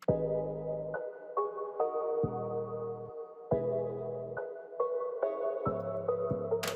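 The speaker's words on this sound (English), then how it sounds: "the Spinz 808 has a long tail sound like" Deep 808 bass notes with long sustained tails sit under a repeating melodic synth pattern, each bass hit booming and holding before the next.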